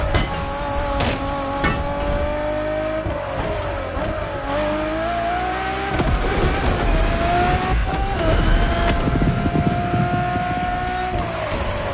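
A Ferrari road-legal Formula One hypercar in a racing video game, its engine revving high and steady with rising pitch through the gears, loud and close with a faint tire squeal, a voice talking over it.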